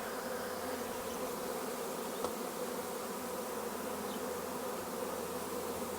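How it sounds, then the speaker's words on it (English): A swarm of honey bees clustering around an open hive box buzzes in a steady, dense drone that holds level throughout, close and unbroken, with no voices. "There's bees everywhere."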